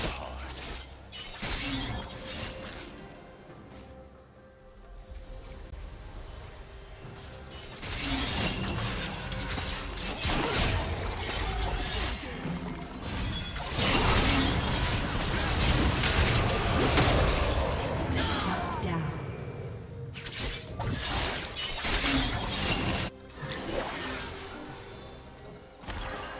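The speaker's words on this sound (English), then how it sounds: "Team's turret has been destroyed" A turret is destroyed in League of Legends amid a busy fight: loud crashing, shattering bursts and whooshes layer over continuous game noise, peaking in the middle before easing off and flaring again near the end.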